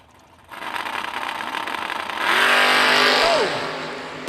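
A 67 Camaro drag racing car roars off the start line at a drag strip event, its engine rising sharply in pitch as it accelerates hard, loud and close, then easing off near the end.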